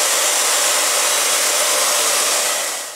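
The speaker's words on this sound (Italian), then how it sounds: "noi ci accontentiamo del phon" A hair dryer blows in a steady, loud rush of air, close by, heating the surface of a wooden icon-painting board, with no other sounds.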